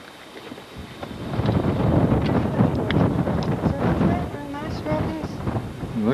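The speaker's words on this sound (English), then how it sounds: "Boy, that wind is cold, too." Cold, breezy wind gusts around a rocky park site in New Mexico, a steady rushing roar that swells and eases under voices talking close by.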